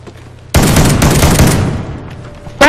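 A shotgun blast in a video game, one loud close boom that cuts in sharply and rings out with a long decaying roar, followed by the start of a second shot.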